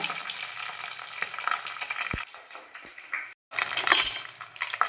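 Tomatoes and chillies fry in a pan, producing a close, hissing sizzle that drops away partway through, with a sharp clink and then a brief gap before the hiss returns louder.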